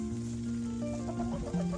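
Chickens in a winterized chicken run cluck in short, soft calls over a steady low hum, close and moderately quiet, with a few louder notes toward the end.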